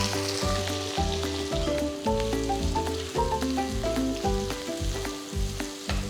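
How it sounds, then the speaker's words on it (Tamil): Two large finely chopped onions hit hot oil with spluttering mustard seeds and fennel for Chettinad prawn thokku, a loud close sizzle with crackling pops and rhythmic stirring scrapes throughout. "இப்போ இதில் நம்ம 2 பெரிய வெங்காயம் பொடியாக நறுக்கினது அதை சேர்க்க போகிறேன்."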